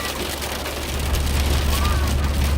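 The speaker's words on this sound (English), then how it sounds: "the rain's hitting off the car" Rain drumming steadily on a car roof and body, a dense, continuous patter with a low rumble underneath, close and moderately loud throughout.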